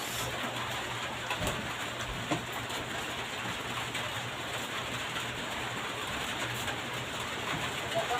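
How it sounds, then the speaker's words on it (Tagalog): Steady, even hiss of rain falling continuously, with no voices and only faint scattered sounds underneath. "maulan ngayong hapon, sarap sa masarap yung mal, ano, ulan namin ngayon kasi maulan"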